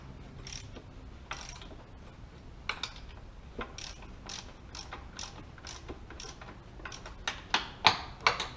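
Ratcheting clicks from cranking the chain tensioner on an old McCulloch chainsaw, a steady series of sharp mechanical clicks that grow louder and more spaced toward the end, close up with no talking.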